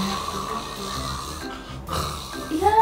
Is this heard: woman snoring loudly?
yes